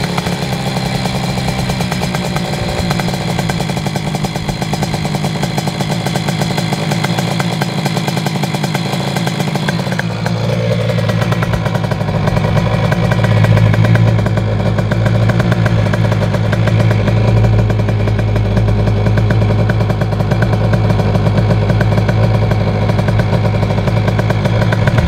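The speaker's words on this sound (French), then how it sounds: "on va la laisser un peu chauffer la moto" A tuned 50cc two-stroke motorcycle engine making 30 hp warms up close by with a loud, buzzing idle. Its pitch shifts and rises partway through as it is revved and held higher, with a rattling mechanical edge throughout.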